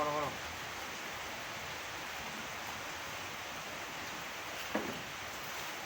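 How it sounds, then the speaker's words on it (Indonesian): Steady broadband hiss of rain falling outdoors in the afternoon, continuous and even throughout, with a brief voice at the start and a short sharp knock near the end. "Hujan."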